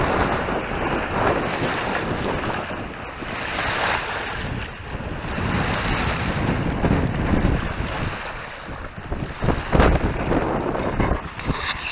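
Strong wind blows outdoors at a fishing competition, roaring and buffeting the microphone in loud continuous gusts that rise and fall, with no voices heard.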